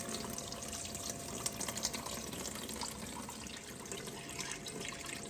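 Water rushes steadily through a gold sluice box fitted with Blue Bull mats, a continuous close wash with faint trickling and splashing and no talk.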